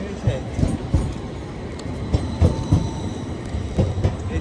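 An Edinburgh tram passes close by with rhythmic rail clicks and a rolling rumble over the track, while people talk over it.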